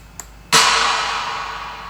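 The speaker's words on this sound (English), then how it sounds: "this is a clap, right?" A single sharp clap sample in a music production beat hits once and then trails off in a long, bright reverb tail, loud and alone, with faint clicks just before and after.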